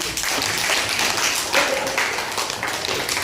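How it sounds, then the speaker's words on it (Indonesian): Students in a classroom applaud Anissa with steady, dense clapping that holds an even level throughout the short stretch, no voices standing out. "aplaus buat Anissa"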